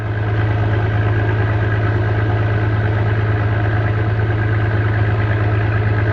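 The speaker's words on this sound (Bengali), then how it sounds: "আমাদের নৌকা এখন খাড়ি থেকে বেরিয়ে সাগরে উঠবে।" Boat engine drones steadily and loudly throughout, a low constant hum with no speech, as the boat leaves a creek for open sea on the crossing from Mayagoalini ghat on Gangasagar island to Petuaghat.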